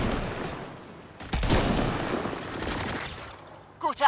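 Rapid bursts of gunfire in the video game Mass Effect: Andromeda crackle through a short stretch, mixed with a chattering fusillade and a brief sharp pop near the end.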